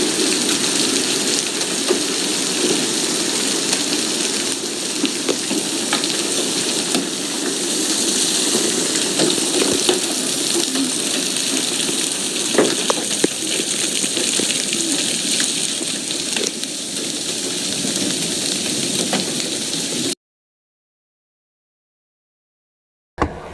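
Dense hail pelts hard surfaces outdoors in a steady, loud, hissing clatter that runs unbroken for about twenty seconds before cutting off.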